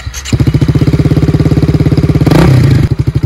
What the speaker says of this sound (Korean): 오토바이 타기 도전 해보겠습니다.